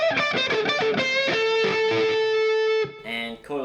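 Distorted electric guitar through the neck humbucker pickup of a Yamaha SG800, playing a quick, busy riff with a sustained note, ending in a brief choppy tail.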